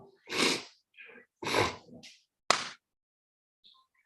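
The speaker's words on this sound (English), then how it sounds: "Sneeze, man." Several sharp, breathy sneezes in quick succession, close and loud, with short pauses and small sniffs between them.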